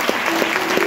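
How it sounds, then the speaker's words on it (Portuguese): Dense, steady applause fills a church congress hall as the audience claps together at a gospel trio's performance, a continuous close wash of hands with no pauses. "eu gostaria que você desse uma salva de palmas ao Senhor pela vida desse grupo"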